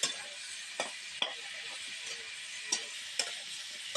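Chili and cumin paste is stirred in hot oil for a village-style vegetarian curry: a soft, steady sizzle with occasional sharp spoon clicks against the pan, faint and close.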